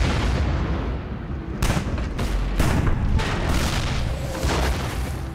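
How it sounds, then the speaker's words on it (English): Soviet artillery shelling Berlin in April: dense, continuous rumbling barrage with repeated heavy booms and sharp blasts layered over one another, loud and sustained throughout. "Soviet artillery begins to shell Berlin on April 20th, the birthday of Adolf Hitler."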